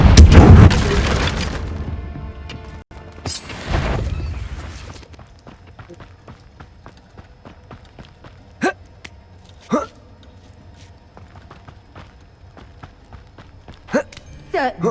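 A Confringo fire spell bursts loudly in Hogwarts Legacy, a heavy boom and rumbling blast at the start and again around four seconds, then quieter scattered clicks and crackles.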